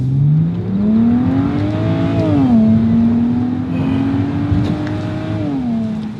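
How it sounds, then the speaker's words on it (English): The turbocharged engine of a 2009 BMW 335i Convertible revs up and down, its pitch rising, falling and rising again in a smooth loud drone with whirring overtones, close by and with no talking. "you hear the sound of the turbos"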